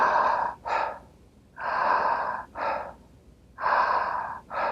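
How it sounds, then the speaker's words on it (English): Slow, deliberate breaths drawn in and pushed out with audible sound, close and clear in a quiet room, in three long cycles, each long hissing inhale followed by a shorter puff. "the way that that breath looks and or potentially sounds is something like this"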